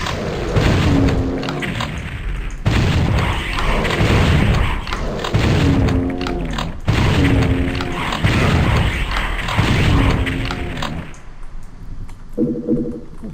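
Rocket explosions from the shooter Doom 64 Retribution boom repeatedly in a dense, loud run of blasts and thuds, with mechanical clanks and game music layered through, tapering near the end.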